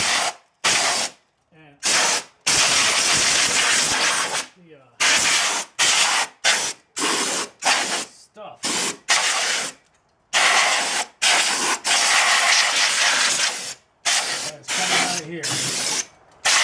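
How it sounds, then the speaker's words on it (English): Compressed air nozzle on a small compressor blowing out the interior of a 2006 Mercedes-Benz CLK Cabriolet: loud hissing bursts in an irregular on-off rhythm, some long and some short, close by. "I just got the air nozzle and I started blowing around in here."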